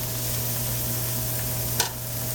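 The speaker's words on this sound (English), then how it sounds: "let's let our onions sweat up a minute or two" Onions sweating in a hot pan for a sausage stuffing, a steady, even sizzle held close throughout, with one brief louder crackle near the end.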